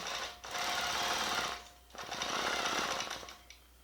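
A longarm quilting machine stitching a quilt-as-you-go log block, two steady runs of rapid mechanical needle chatter with a short pause between, close and fairly loud.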